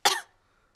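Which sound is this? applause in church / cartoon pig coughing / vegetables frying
cartoon pig coughing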